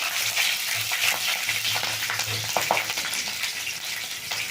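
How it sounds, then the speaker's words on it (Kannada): Green and dried chillies fry with chana dal in hot oil, a steady crackling sizzle with occasional sharper pops and stirring, close and continuous throughout. "ಈಗ ನಾನಿಲ್ಲಿ ಒಂದು ಐದು ಹಸಿಮೆಣ್ಸಿನ್ಕಾಯಿ ಮೂರು ಒಣಮೆಣ್ಸಿನ್ಕಾಯಿ ತೊಗೊಂಡಿದ್ದೀನಿ ಹಾಕ್ತಾಯಿದ್ದೀನಿ"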